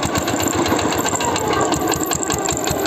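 A small tractor's engine chugging loudly and close with a rapid, even knocking rhythm, holding steady as the throttle is opened a little, running smoky.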